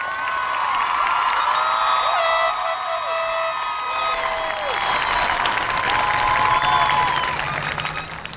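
A high school graduation crowd outdoors applauds and cheers, a broad continuous roar of clapping with whoops and horn blasts rising over it, with a voice and music heard amid the noise.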